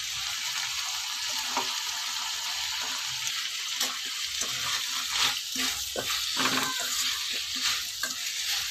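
Chopped tomatoes with turmeric cooking in a pan, a soft steady sizzle broken by repeated stirring scrapes and small wet clatters, close but fairly quiet.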